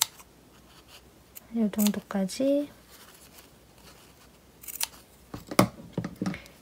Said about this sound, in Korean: 가위로 세로로 이렇게 잘라줍니다.